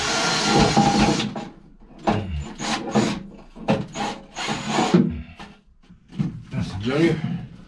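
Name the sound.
scraping, cleaning holes near a bilge pump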